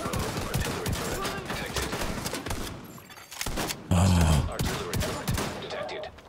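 Rapid gunfire from shooting an enemy in the video game The Division 2, loud bursts throughout under busy game sound, with one sharp blast near the middle.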